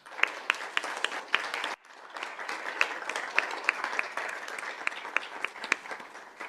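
Attendees at a Peoria Unified school governing board meeting give a round of applause to a departing staff member. Sharp individual claps stand out over a continuous, moderately quiet wash of clapping that carries on without pause.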